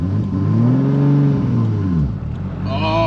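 A Toyota Supra fitted with long gears accelerating gently in second gear, its engine note rising steadily and then settling, heard close and continuous without talk.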